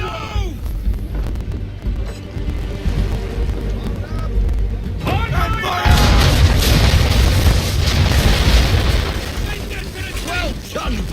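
Sailing ship cannons firing in Assassin's Creed III, heavy booming blasts and rumbling explosions with mechanical clatter, loud and dense through the middle, with people talking over it.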